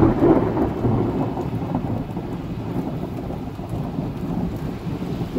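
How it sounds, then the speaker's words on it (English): Rolling thunder rumbles through a storm in north Orange County, California, a deep continuous low roar that starts loudest and stays steady, with rain and wind noise mixed in. "Oh, we got thunder and lightning again."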